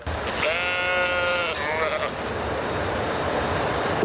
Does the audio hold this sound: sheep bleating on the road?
yes